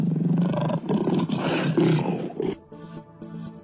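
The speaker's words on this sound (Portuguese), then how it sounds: "Quando o leão viu Andro, ele rugiu muito alto." A cartoon lion roars loudly and at length, a rich rumbling bellow that swells, dips and surges again before trailing off into a lighter background tune.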